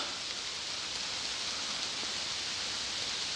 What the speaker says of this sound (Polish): Tylko, że deszcz się wzmaga